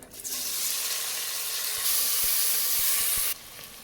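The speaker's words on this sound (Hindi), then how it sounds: "इसी स्टेज पे हम इसमें प्याज डालेंगे।" Onions tipped into hot oil with cooked cumin seeds in a pan, a loud steady sizzle and hiss that bursts in and holds strong before dropping off near the end, with a few soft clicks, no talking.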